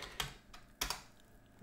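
Typing on a computer keyboard: a few quick, sharp keystrokes arrive in small clusters, close and fairly quiet, with no talk.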